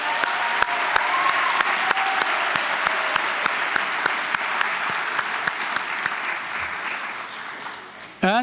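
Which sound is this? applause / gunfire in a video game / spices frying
applause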